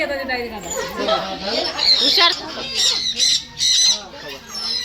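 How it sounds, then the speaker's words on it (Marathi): Loud, harsh squawks of colourful birds repeat in bursts over chattering voices and background noise in a guava orchard. "इकडे तर खूप छान छान प्रकारचे मस्त कलरवाले पक्षी"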